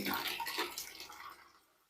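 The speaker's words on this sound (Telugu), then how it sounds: "చాలా స్లోగా అయితే వాటర్ రావడం జరుగుతుంది ఫోర్స్గా అయితే వాటర్ రావడం లేదు" A short, soft splash of water trickling slowly from a mini instant water geyser, fading away over two seconds, close by and quiet.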